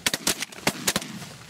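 Shotgun blasts during goose hunting, several sharp shots fired in quick succession within a second or so, loud and close outdoors.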